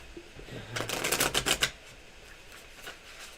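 Tarot cards being shuffled at a table, a single quick riffle of dense crisp flutters lasting about a second amid quiet room noise.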